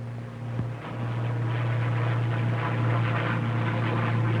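A WWII warbird's piston engine drones steadily as the plane climbs past 20,000 feet, a loud continuous low hum with a rising roar and a brief thump near the start, no voices.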